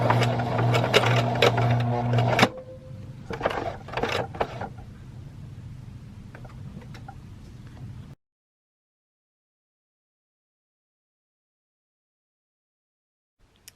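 A sewing machine stitches fabric for a sock gnome, running in a steady mechanical whir, pausing, then resuming in shorter bursts before stopping into silence.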